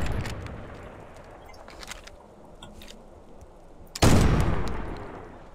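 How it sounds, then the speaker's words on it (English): A shotgun goes off in a winter hunting video game, a single loud blast near the end following quieter scattered clicks and rustles, its boom decaying over about a second. "thankfully the shotgun managed with its first shot there to get it"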